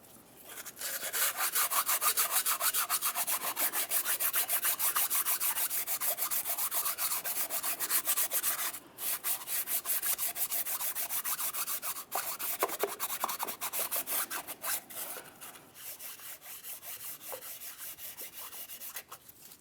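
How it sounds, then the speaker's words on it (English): Rapid back-and-forth scratching of fine sandpaper on a sanding block rubbing the exhaust manifold surface of a 2003-2011 Mercury Grand Marquis engine block, continuous rhythmic strokes with a couple of brief pauses, close by. "use a sanding block with fine grit sandpaper and sand down the engine"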